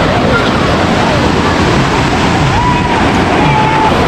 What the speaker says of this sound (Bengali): এটা পৃথিবীর বৃহত্তম সমুদ্র সৈকত কক্সেস বাজার